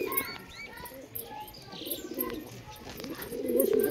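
A pigeon near a bamboo tree gives soft, low, throaty coos in two short bursts, a faint one midway and a fuller one at the end, over faint outdoor background noise.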